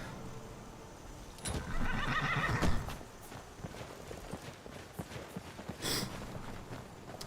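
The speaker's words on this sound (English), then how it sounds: "Horse" Horse in the video game Skyrim whinnying loudly, followed by hoof clip-clops and a snort against quiet ambient game sound.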